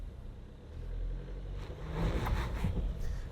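A GWM Cannon Ute engine rumbling and rising as the throttle is rolled on during an off-road climb, a low, fairly faint drone swelling toward the end, with no talking.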